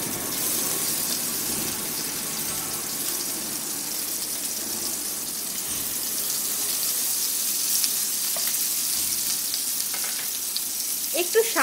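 A paste of ground pumpkin peel frying in hot oil with nigella seeds gives a steady, close, hissing sizzle. A few spatula scrapes and clinks break in toward the end, and no one talks.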